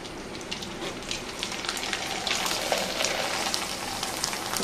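Fichkari pitha, a Bengali rice-flour snack, frying in hot oil gives a soft, continuous crackling sizzle with scattered pops, fairly faint and steady throughout.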